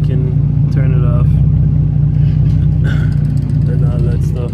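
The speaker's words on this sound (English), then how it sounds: "Exhaust is still running right here" A Chrysler 300 idles with its exhaust running, a steady low rumble close to the microphone throughout, while a person talks over it.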